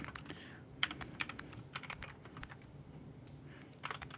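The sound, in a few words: typing on a computer keyboard while playing CozyTyper, from a video game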